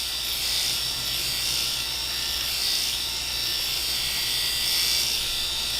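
A GROOMIE BaldiePro cordless head shaver buzzes steadily and close while shaving a head, a continuous whirring hum with slight swells and no pauses.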